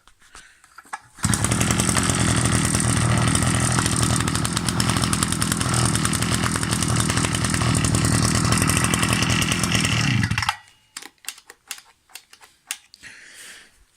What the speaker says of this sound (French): Je suis sûr, je remets un coup, elle redémarre tout de suite.